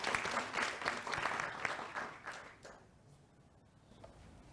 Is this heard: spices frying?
no